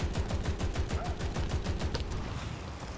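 A vehicle's gun in War Thunder, a combat video game, fires a rapid steady burst of loud, evenly spaced shots that slows and fades near the end, with no voices over it.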